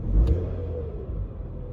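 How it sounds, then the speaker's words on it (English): A car engine idles after its mass air flow sensor has been cleaned, a close, low steady rumble with a slight rise at the start and then an even hum. "So far it's idling a lot better,"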